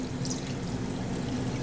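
Chicken stock and water poured into a cooking pot for red beans and rice, a steady close liquid pour with a continuous splashing rush and no talk.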